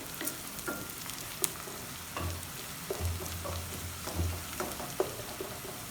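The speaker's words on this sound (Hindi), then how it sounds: "उनको फ्राई कर रहे हैं। आधा कप घी का डाला है" Two large onions frying in half a cup of ghee with garlic, a steady close sizzle with occasional stirring scrapes and soft pops.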